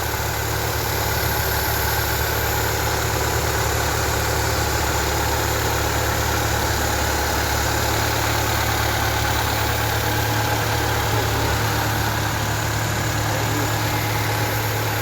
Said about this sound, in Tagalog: naandar na ho yung makina